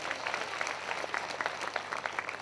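A congregation at a prayer meeting applauds to honour God, a dense, moderately loud patter of many hands clapping at once, fairly close and steady.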